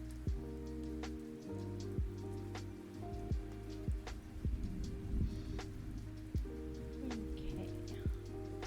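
Soft rain patters steadily in the Spirit City video game ambience, faint and even, with a low tonal music bed and scattered droplet ticks.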